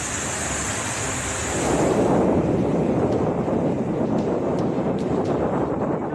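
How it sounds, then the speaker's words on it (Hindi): Rough surf crashes continuously on the coast as Cyclone Jawad approaches, gusty wind buffeting the microphone, a steady roaring wash of water that swells slightly louder partway through. "समंदर पूरे उफान पर है।"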